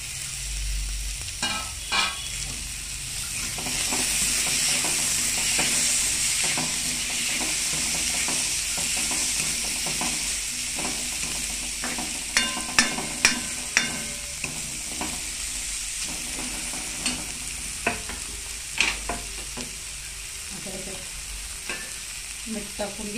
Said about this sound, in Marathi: कढीपत्ता टाकते, आता टोमॅटो टाकून घेते.